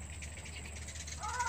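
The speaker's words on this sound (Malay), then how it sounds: "Nah, ada burung-burung loh." Wild birds, crow-like caws, calling outside, faint and distant, a few rough repeated calls over low background hum, with a brighter call rising near the end.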